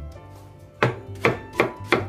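A knife chops apple and onion on a cutting board in four sharp, evenly spaced strokes, close and clear, with no talking.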